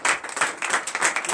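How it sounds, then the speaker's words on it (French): A church congregation at a morning prayer gathering in Benin claps in acclaim, a brisk run of fairly close, rhythmic hand claps repeating every fraction of a second. "Donnez l'acclamation à l'Éternel."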